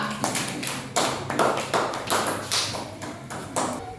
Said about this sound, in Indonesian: Tepuk tangan buat Dava.